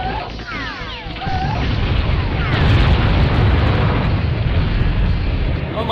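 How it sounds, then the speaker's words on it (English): Turrets blowing up in the N64 game BattleTanx Global Assault: a loud, sustained explosive rumble with crashing debris that swells after a second and stays heavy, with faint descending whistling tones early on. "Oh my, did I blow up your turrets?"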